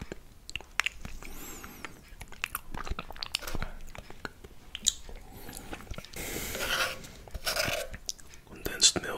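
Grass jelly with condensed milk eaten close to the microphone: soft, wet bites and squelching chews come in uneven bursts, with faint whispering breaths between mouthfuls.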